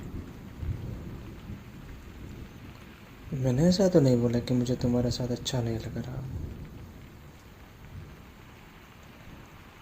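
Steady rain falls with low rumbling thunder throughout, while a soft close voice speaks over it in the middle.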